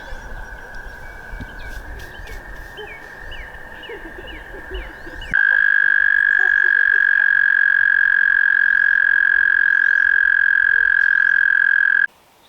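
Toads trill in a steady, high, buzzing chorus; a few scattered calls lead into one loud, unbroken trill that lasts several seconds before stopping.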